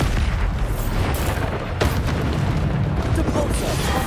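Bombarda explosion spells cast in the Hogwarts Legacy video game, a dense roar of booming blasts and magical bursts over a constant rumble, with a sharp impact partway through.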